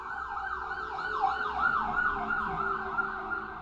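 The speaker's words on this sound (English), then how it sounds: "There's an ambulance about to go by." Ambulance siren wailing as it passes by on the road, a loud rising-and-falling sweep that repeats rapidly over a vehicle rumble, close and prominent throughout.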